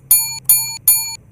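Three bright, ringing bell chimes sound in quick succession, each with a sharp strike and short decay, used as a subscribe-reminder sound effect over a quiet low hum.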